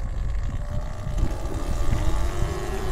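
An Eride Pro SS electric dirt bike being ridden, a steady low rumbling drone of motor and wind noise with fluctuating loudness, no talking.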